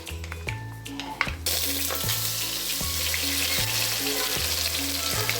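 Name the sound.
ground masala paste frying in pan for fish curry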